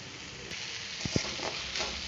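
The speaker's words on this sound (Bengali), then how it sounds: "জাস্ট হালকা ফ্রাই হলেই আমি এর মধ্যে আলু আর গাজর গ্রেট করাটা দিয়ে দিলাম।" Grated potato and carrot fry gently with garlic in a pan, a soft, faint sizzle with a couple of brief stirring scrapes near the middle and no talking.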